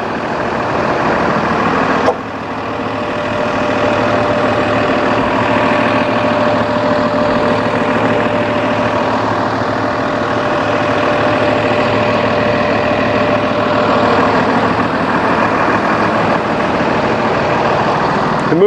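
A Cummins 6.7 turbo diesel under the hood of a 2017 Krystal Koach shuttle bus on a Freightliner chassis idles loud and close, a steady low rumble with one brief dip near the start.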